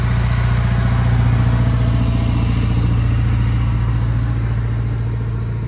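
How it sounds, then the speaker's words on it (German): A loud, continuous low engine drone with a steady mechanical hum dominates throughout, as a tractor rumbles close by on an Alpine pass road, fading slightly at the end. "Jetzt fährt der Traktor vorbei."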